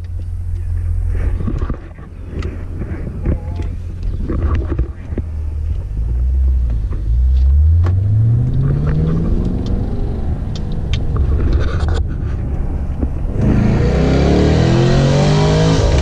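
A Chevrolet SS race car on a hot lap at the Detroit Grand Prix, its engine revving and sweeping up through gears with loud, close rumble and wind buffeting, a burst of acceleration near the end.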